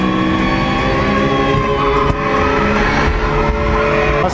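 Subaru racing in the Initial D arcade game at an arcade in Odaiba, Tokyo, engine roaring loud and steady with tires skidding throughout, a sharp bump midway.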